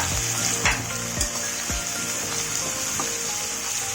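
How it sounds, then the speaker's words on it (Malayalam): Crushed garlic, curry leaves and green chilies sizzle in hot oil in a pan, a loud steady frying hiss punctuated by a few sharp spatula knocks and scrapes against the pan while being stirred. "പച്ചമുളകും കൂടി ആഡ് ചെയ്ത് കൊടുക്കാം. നന്നായി വഴറ്റി കൊടുക്കാം."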